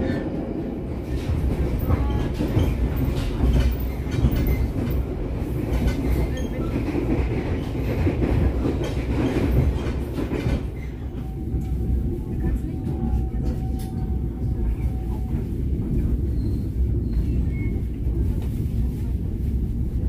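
The KA Mataram passenger train rumbles steadily along the rails into Pasar Senen station with rhythmic clatter and a brief high wheel squeal, loud and close, with faint voices underneath.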